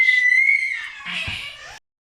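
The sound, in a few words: baby screaming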